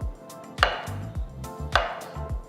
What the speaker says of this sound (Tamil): நான் ஃபஸ்ட்டு 2 ஓரத்தையும் கட் பண்ண போகிறேன்.